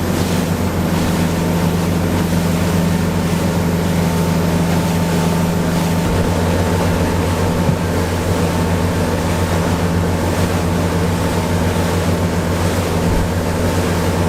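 A Deep V Rumbler boat banks through a tight right-hand turn on the plane at about 16 knots in Waterloo Bay, its engine a steady, close drone under constant wind buffeting and rushing water.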